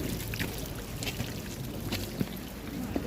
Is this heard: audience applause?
no